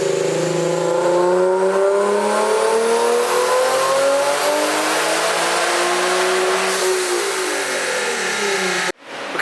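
A Nissan 370Z with remote-mount mismatched twin turbos makes a dyno pull, its engine revving steadily upward in one loud, continuous sweep for about nine seconds before cutting off abruptly.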